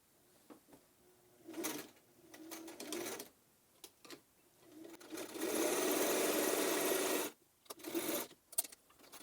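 A sewing machine stitches a reinforcing line along a fabric face mask, with short bursts of whirring and then one longer sustained run of about two seconds, close and fairly loud, followed by small handling clicks.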